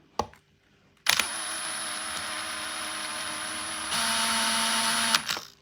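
A power drill whines steadily while drilling into the plastic casing of a broken PlayStation, a close continuous buzz that shifts higher in pitch partway through before stopping, with a few clicks at the start.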